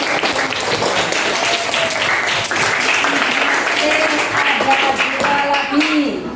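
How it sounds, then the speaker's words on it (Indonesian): A Grade 7 class in an Indonesian junior high school claps together for a classmate, a close, steady burst of many hands with voices chattering over it. "Ya, kita berikan tepuk tangan."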